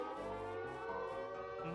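A Sirenhead creature's siren wails in Minecraft, a sustained droning, harmonic tone with slight wavering pitch, moderately faint and distant, sounding alone without talk.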